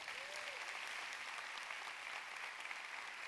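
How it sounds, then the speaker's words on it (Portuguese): Congregation applauding in a church service, a steady, dense wash of clapping hands that holds evenly throughout, with no one speaking over it. "Quem pode dar um aplauso ao Senhor Jesus?"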